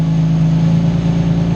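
A car engine held at a steady idle-level throttle, a loud continuous low hum with a strong, even drone and no rising rev, running unbroken throughout.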